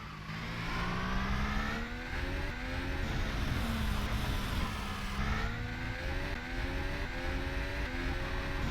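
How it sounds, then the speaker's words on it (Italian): A McLaren Formula 1 race car engine in the GP4 video game with a 2015 mod, a loud, continuous high-pitched whine that rises and falls through gear changes as it accelerates and revs. "volevo far sentire anche il rumore del motore"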